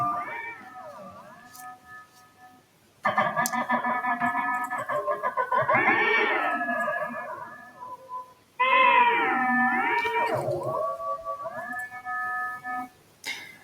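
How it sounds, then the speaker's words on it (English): A human voice run through a ring modulator driven by Aquapella sensors produces warbling, metallic, cat-like wails in several bursts separated by short quiet gaps, with no plain speech. "our last sound, which is the ring modulator"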